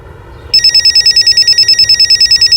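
A telephone bell in a crime drama TV show rings in a fast, steady pulsing pattern, starting abruptly after a half-second of low room murmur and continuing loud and close to the end.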